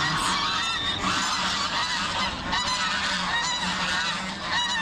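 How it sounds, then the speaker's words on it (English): A flock of wild geese at Western Springs honks continuously, many overlapping calls forming a dense, noisy chorus at moderate distance. "The wild geese of Western Springs."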